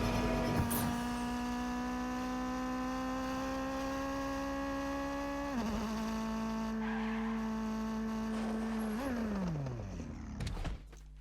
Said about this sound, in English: So overall, the car sounds very nice.